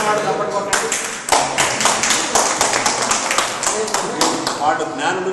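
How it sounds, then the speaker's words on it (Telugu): Scattered clapping from an audience at a Telugu comedy show, individual claps irregular and close, rising into a brief flurry before thinning out again, with a voice talking underneath. "బ్యాడ్ టేస్ట్ ఉన్నవాడు చప్పట్లు కొట్టండి."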